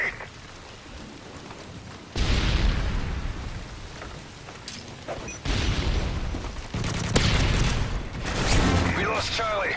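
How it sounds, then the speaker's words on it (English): Predator missile strike in a video game: several heavy blasts and booming impacts hit in sequence over a rumbling battlefield, loud and broadband, with bursts of noise rising and falling. "Predator missile inbound."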